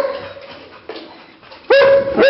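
A grieving dog gives whimpering, yelping cries close to the microphone, quieter at first and then two loud drawn-out whining howls near the end.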